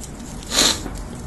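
Jalapeno-dusted chips rubbed hard between the hands give a single brief, rough crunching scrape in the middle, set against a quiet background.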